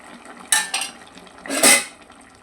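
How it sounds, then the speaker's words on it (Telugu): A spoon scrapes and clanks inside a pot while masala is mixed into a country chicken curry: two quick metallic knocks, then a longer stirring scrape, close and fairly loud. "మసాలా వేసి అల్లం వెల్లుల్లి పేస్ట్ వేసి దాన్ని బాగా మిక్స్ చేసేసి"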